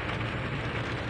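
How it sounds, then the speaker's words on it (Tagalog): Heavy typhoon rain from Typhoon Tino pours down around Cabadbaran during flood wading, a dense, continuous hiss and patter filling the whole moment with no voices. "masyadong malakas ang ulan"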